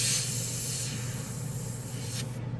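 An inexpensive under-$70 airbrush sprays enamel paint in fine lines, giving a steady close airy hiss that runs without a break and then cuts off just before the end.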